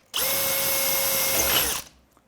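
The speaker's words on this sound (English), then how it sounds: "then we can go ahead and drill that last hole" A power drill bores a hole near a motor during wiring work, running as one steady, loud whine for under two seconds before stopping abruptly, with no talk over it.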